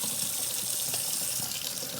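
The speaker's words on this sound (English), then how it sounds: "So all you gotta do is run it in hot water for a little bit, then rinse it." Hot tap water runs steadily over an air-filled soda can held under a faucet, a continuous close, bright splashing rush with no pauses.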